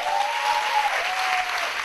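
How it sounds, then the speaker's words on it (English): Forum audience applauding a speaker, dense continuous clapping from a crowd throughout, fairly loud and steady with no gaps. "Let's give a round of applause, please, for Mr. Mark Ruiz."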